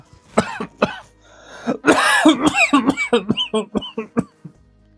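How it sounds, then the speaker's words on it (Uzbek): A man coughs repeatedly in a burst of harsh, close coughs and throat clearing, loud and uneven, with no talk over them. "Ko'p yo'talyapsiz."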